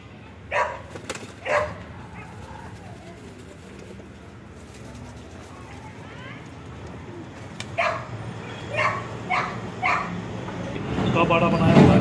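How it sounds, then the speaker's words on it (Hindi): Pigeons, both domestic and wild, coo softly in the background at a cow shelter while a dog barks in short bursts nearby, and the general noise swells toward the end. "देसी भी हैं, जंगली कबूतर भी हैं"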